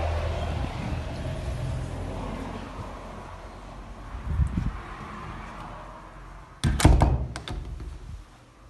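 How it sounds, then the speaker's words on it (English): The main entrance door of a residential building is pushed open and swings shut with a solid thunk, followed by a second sharper clatter of the door settling, heard close by over faint wind and ambient room noise. "So this is the main door."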